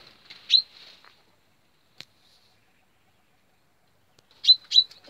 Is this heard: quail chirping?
yes